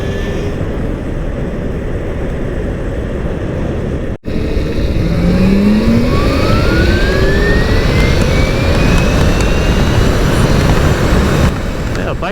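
An electric bike with a water-cooled Sotion GTS35 mid drive motor rides along with steady rushing wind noise and a rising motor whine that sweeps upward.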